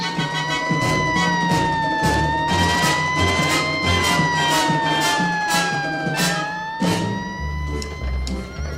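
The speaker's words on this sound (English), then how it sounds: "A wild ride with a hook and ladder company through the streets of Los Angeles." A Los Angeles hook and ladder fire engine races through city streets, its wailing siren rising and falling continuously at close range over rumbling traffic and the truck's engine.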